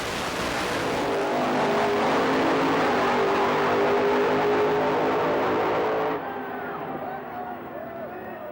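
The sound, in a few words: Victor Bray's drag racing car accelerating down the strip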